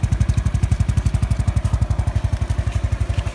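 A motorcycle engine idles close by in a repair setting with a steady, rapid, pulsing putter that stays even throughout, with no talking.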